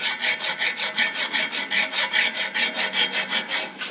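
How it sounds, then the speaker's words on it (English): A flat file rasps rhythmically across the edge of a metal weld, about a dozen even back-and-forth strokes close up with no talking. "we're gonna use a flat file down on this edge"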